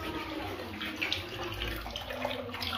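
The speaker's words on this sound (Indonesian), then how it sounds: "Ngocor airnya." Water gushing out in a steady, close rush like a running tap filling a basin, continuous for under three seconds with no speech.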